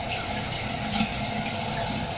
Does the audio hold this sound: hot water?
yes